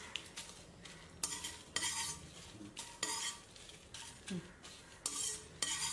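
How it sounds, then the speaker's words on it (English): Dry red chilies are roasted in a dry pan, with a spatula repeatedly scraping and stirring them in quick, irregular strokes and a faint crackle between; fairly quiet, with no voices. "in the meanwhile let's dry roast the other ingredients. Here we have taken the dry red chilies."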